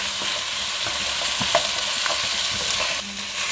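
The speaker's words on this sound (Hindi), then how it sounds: "अदरक लहसुन के साथ हम इसको अच्छे तरीके से फ्राई कर लेंगे।" Arvi and meat fry with ginger and garlic in a pan, a continuous close sizzle broken by occasional stirring scrapes and clinks, with no talking.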